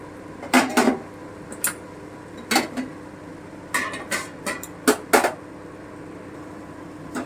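Ridge gourd being stir-fried in a pan for jhinge jhal, heard as a few sharp metallic scrapes and clinks of a spatula against the pan in irregular bursts, close and fairly loud, with no talking.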